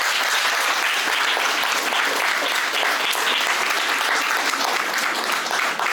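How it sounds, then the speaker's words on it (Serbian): A dense, loud burst of clapping from a crowd at a gallery exhibition opening, sustained and even from start to finish. "I jedan velik aplauz."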